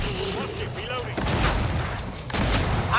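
Shotgun blasts in the video game Killing Floor 2, heavy booming shots at roughly one-second intervals over dense game noise, with short tonal effects and a player's voice talking throughout.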